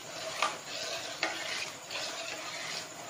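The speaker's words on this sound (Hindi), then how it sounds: "अब हम इसमें ये आहिस्ता आहिस्ता करके कस्टर्ड डालते जाएंगे और चम्मच से हिलाते जाएंगे।" A spoon stirs custard into sugar for a vanilla trifle, making a steady, close scraping swish with a few light knocks against the vessel and no voices.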